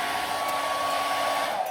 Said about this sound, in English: you can use a hairdryer. It's going to get kind of loud here